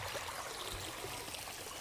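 Water gushes steadily from a running pump motor on a farm, a dense continuous rushing flow heard close and alone for the whole short stretch.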